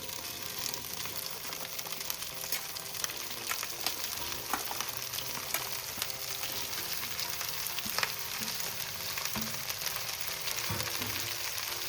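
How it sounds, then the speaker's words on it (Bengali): Onion stalks (spring onion) frying in a pan for a poppy-seed dish, a steady close hiss and crackle of oil with faint occasional stirring, no talking. "এবার পেঁয়াজের সাথে ভালো করে পেঁয়াজ কালিটাকে একটু ভেজে নেব।"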